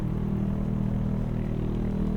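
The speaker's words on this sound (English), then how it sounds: "Oh, it's a motorcycle or something." A motorcycle engine at night outside a village shopping center, a low, steady rumbling drone with reverberation, moderately distant and faint throughout, with no other sounds over it.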